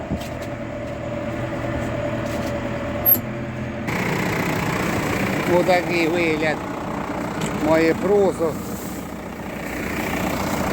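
Tractor engine idling in a millet field during harvest-time desiccation work, a steady low rumble running throughout while someone talks over it.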